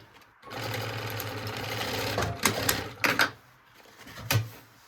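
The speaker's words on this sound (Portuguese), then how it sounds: "Presta atenção na hora de costurar para vocês não fazerem errado." A sewing machine stitches a backpack strap in one steady run of about two seconds, then slows into a few short bursts and clicks, close and fairly loud with no talk.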